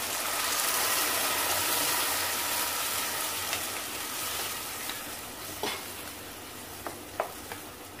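Loud, steady sizzling of ground masala paste frying in a hot pan for egg omelette gravy, with a few sharp clicks of stirring toward the end.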